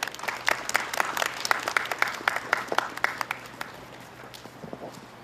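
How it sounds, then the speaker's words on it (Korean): Scattered, sharp applause at an outdoor press conference for a cleaning worker who just spoke, a small group clapping briskly at first, then fading and thinning out toward the end. "용기를 내어 발언해 주신 청소노동자분께 큰 박수 부탁드리겠습니다"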